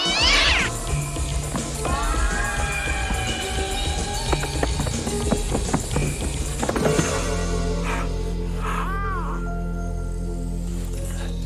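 A cat meows and caterwauls loudly and close, in drawn-out rising and falling cries, while hoof-like clip-clop knocks and clatter sound beneath; after a sudden cut the scene turns quieter with a low hum and a brief softer meow.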